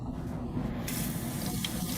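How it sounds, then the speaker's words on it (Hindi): Hot water pours steadily into a container for a gummy-bear drink mix, a continuous close splashing fill with no voices over it. "अरे देखो, तुम्हें थोड़ा गर्म पानी डालना है, इसमें ये भी डालना है।"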